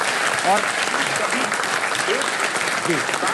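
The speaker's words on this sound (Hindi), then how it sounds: "तो इस बात के लिए भी तालियां होनी चाहिए" A studio audience applauds a safe driver during a talk show on traffic rules, a steady, full wash of clapping with voices heard over it.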